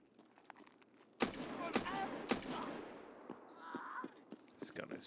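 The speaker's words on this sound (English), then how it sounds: "This gun is so flippin' loud, dude." A player's gun in Escape from Tarkov fires loudly: three sharp, close gunshots in quick succession, then scattered fainter cracks and clatter.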